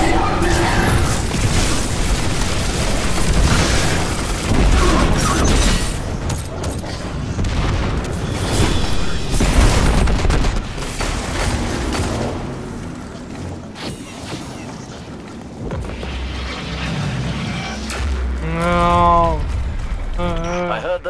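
Heavy explosions destroy a mining lander in the Destiny 2 video game: loud overlapping booms and rumbling blasts roll on through the stretch, with dense mechanical clatter and voices mixed in.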